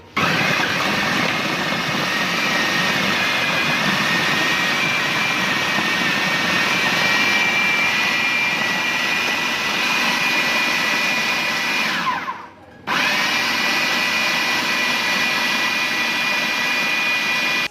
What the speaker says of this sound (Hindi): अब इसको अच्छी तरह से ब्लेंड कर लेना है ताकि ये मज़ीद जो है ना सॉफ्ट हो सके